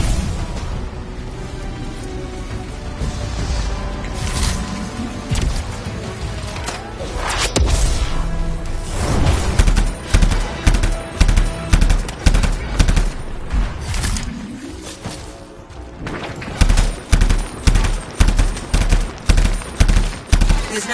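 Enemy turret gunfire in the video game Anthem: rapid machine-gun bursts rattle over a dense roar of battle, growing into loud, regularly spaced volleys toward the end.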